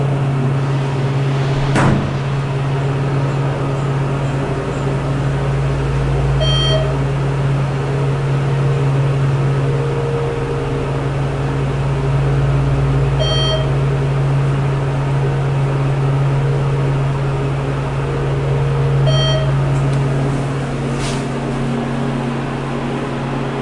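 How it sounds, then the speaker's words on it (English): The hydraulic motor of a ThyssenKrupp Endura MRL elevator at a Holiday Inn Express in Mount Joy, PA runs with a steady low hum, and faint periodic clicks repeat several times over the run. "we'll listen to the motor on this car"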